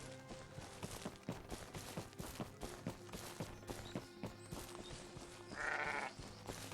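Sheep in a shepherding video game bleat, with one clear, loud bleat near the end, over a busy rhythmic backdrop of game music and clopping sounds.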